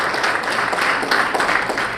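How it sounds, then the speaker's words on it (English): Audience at a business excellence awards ceremony applauds the mayor of Milpitas, a dense, even wash of clapping that fills the whole short clip at close range with no voices over it. "Please give a big round of applause to her."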